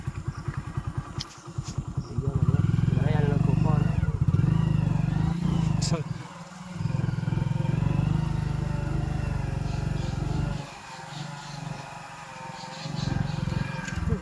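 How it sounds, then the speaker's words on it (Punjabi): A motorcycle rides past near the Beas River: a loud, steady engine drone rises in, holds for several seconds, dips, then returns, with people talking in between. "ਇੱਥੋਂ ਜਾਂਦਾ ਮੋਟਰਸਾਈਕਲ"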